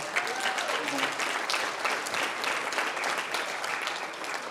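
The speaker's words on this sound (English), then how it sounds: "Let's give them a round of applause again." An audience at a youth empowerment gala breaks into sustained applause, dense clapping that carries evenly from start to finish, with a few voices mixed into the crowd.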